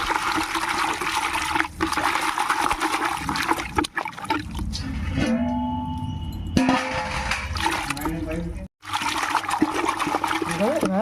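Gongura leaves are washed by hand in water, with splashing, sloshing and trickling close by, broken by brief pauses and someone talking over it.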